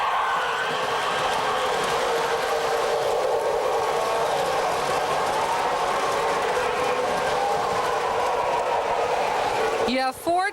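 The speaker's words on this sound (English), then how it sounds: "You have 4 trains running at one time, right?" Several model trains run at once on a layout, giving a steady, dense rumble and clatter of wheels on track throughout. A sharp burst of other noise cuts in at the very end.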